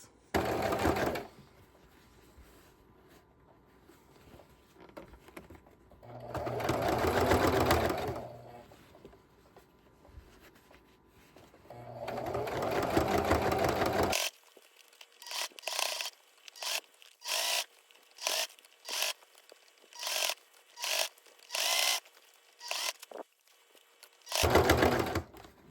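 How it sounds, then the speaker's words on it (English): A sewing machine stitching around the edges of a bucket hat with a 3/8 inch seam allowance, heard in several sustained bursts of running stitches and then a series of short, rhythmic stop-start runs, close and fairly quiet. "So now I'm going to sew around these edges, 3/8 of an inch seam allowance"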